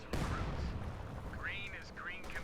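120mm mortar fire in Company of Heroes 2 opens with a sharp, heavy blast that rolls into a sustained rumble, with rising whistling tones and battle noise layered over it.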